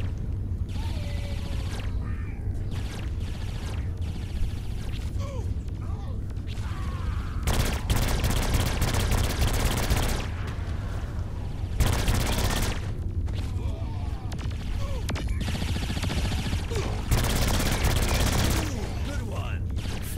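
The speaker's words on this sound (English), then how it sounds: "I'm shooting it." Gunfire in Saints Row 4, with loud bursts and rapid volleys recurring across a chaotic fight, several sustained stretches of shooting, and characters talking between and over the shots.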